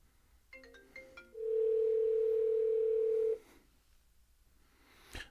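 A Bluetooth phone call placed through a Pioneer AVH-110BT car stereo: a quick run of touch-tone beeps, then a single loud steady tone lasting about two seconds, followed by quiet and a faint click.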